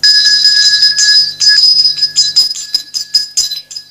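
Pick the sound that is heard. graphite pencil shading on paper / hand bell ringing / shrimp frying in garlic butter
hand bell ringing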